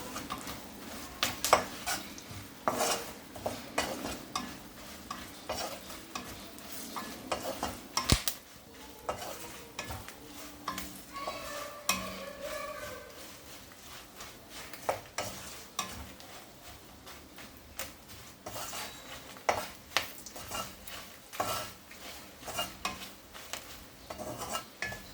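A tempering with asafoetida for a toor dal and chana dal sambar sizzles and fries in a pan while a spoon stirs and scrapes it, giving sharp repeated clinks over a steady crackling hiss.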